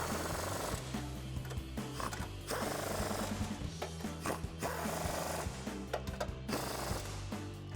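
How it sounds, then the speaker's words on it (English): A 15mm socket tightens the nuts on a KONI Sport adjustable shock and strut kit on a 2015-2024 Ford Mustang, with rapid repeated ratcheting clicks and scraping metal bursts over a steady background. "Now we can come back up top and take a 15mm socket to tighten down our nuts."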